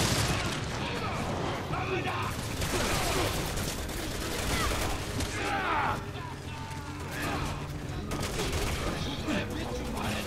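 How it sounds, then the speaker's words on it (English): Flashbang grenades going off amid game combat in Resident Evil 6, dense bursts of gunfire and blasts over a continuous roar of action, with a player talking throughout. "Flashbang."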